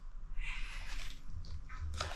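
A wheat straw accordion file folder is closed and opened, giving faint soft crinkling and rustling of its pleats at close range with no talk.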